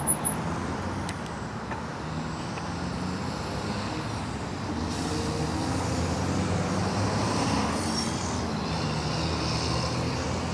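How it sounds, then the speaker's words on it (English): Steady wash of busy road traffic with many cars passing, broadband and continuous throughout, heard from a roadside while out on an e-bike ride. "Yeah, really packed up with cars here today."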